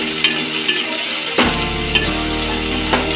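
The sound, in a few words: tomatoes frying in a pan for fish curry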